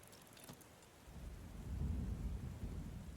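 Storm in the Book of Hours video game, with a steady wash of rain under low rolling thunder that swells after the first second and stays loud to the end.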